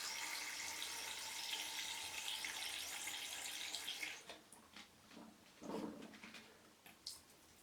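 Bursts of fine water spray from a spray bottle misting a tarantula enclosure hiss steadily for several seconds, then break into shorter sprays and faint drips close by.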